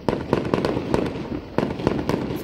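Loud Fourth of July fireworks crackle and boom in a rapid, irregular series of close, sharp blasts with no pauses, heard alone.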